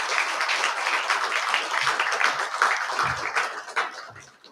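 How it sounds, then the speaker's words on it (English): Applause from an audience at a Governor's Spirit awards ceremony in Cedar City, a dense wash of many hands clapping steadily for several seconds, then tapering off toward the end. "Please join me in giving her a round of applause."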